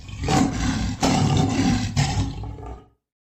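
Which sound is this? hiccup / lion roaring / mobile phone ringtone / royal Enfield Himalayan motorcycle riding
lion roaring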